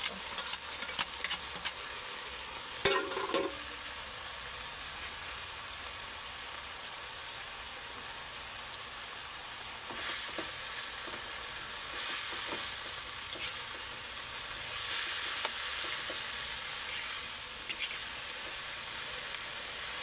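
Blanched, drained banana blossom hits a hot pan for escabeche and sizzles with a steady frying hiss, with occasional stirring clinks and scrapes near the start.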